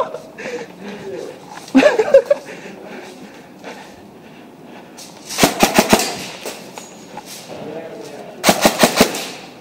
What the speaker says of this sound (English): Warning shots.